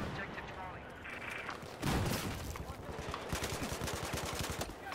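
Rapid automatic gunfire from the video game Battlefield 4 rattles in dense bursts with a heavier blast partway through, set against game ambience and a voice talking.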